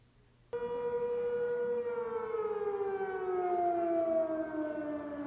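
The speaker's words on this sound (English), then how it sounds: "The siren went off for 2 minutes" A university crisis notification siren sounds during a test, starting abruptly and holding a loud sustained wail that slowly sinks in pitch, heard outdoors from a distance with no talking.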